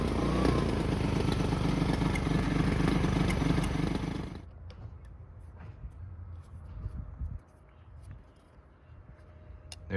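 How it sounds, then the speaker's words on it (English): A neglected 2010 Polaris Ranger RZR 170 engine idles loudly and close for about four seconds with a steady chugging rumble, then cuts out abruptly, leaving faint clicks and handling noises. "It idles now."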